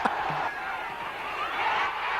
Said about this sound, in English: And the crowd are invading the pitch.